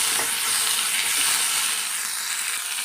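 Egg masala for a restaurant-style egg gravy fries in a pan with a loud, steady sizzle and hiss that holds close and continuous throughout, with no talk over it.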